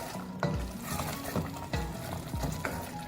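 Stirring yogurt into meat in a hot pan with steady sizzling, a spoon scraping and knocking against the pot several times.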